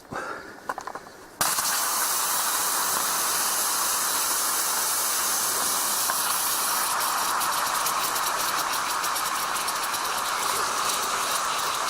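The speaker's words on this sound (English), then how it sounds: "you see that water is boiling nicely" A steady, loud hiss of water rolling at a boil starts abruptly after a brief quieter moment and continues unbroken.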